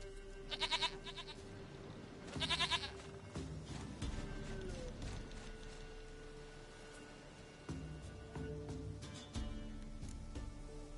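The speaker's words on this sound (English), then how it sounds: "Goat of mine, dearest, sweetest goat." Goat in the Witcher 3 video game, two loud close bleats early on, then a quieter game soundscape with movement and faint background noise.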